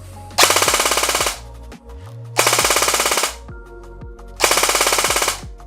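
A Specna Arms SA-F03 polymer-bodied airsoft AEG fires three loud, resonant full-auto bursts of about a second each, with a rapid, even buzzing cadence and short pauses between bursts.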